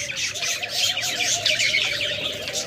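A pair of albino budgerigars in a bird shop chatter and chirp without pause, a dense, lively stream of warbling calls up close with no voices over it.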